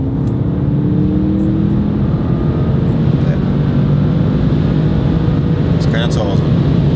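A Mercedes S63 AMG, a nearly three-ton luxury sedan with 1430 Nm and recuperation switched off, accelerates under a steady, continuous drivetrain hum heard from inside, with a few faint clicks near the end.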